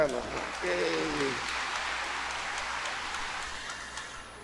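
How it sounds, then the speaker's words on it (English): A congregation claps hands at a novena Mass honoring Our Lady of Manaoag, a steady wash of applause that starts alongside a brief spoken voice and then continues alone, gradually thinning toward the end. "Let's clap our hands for her"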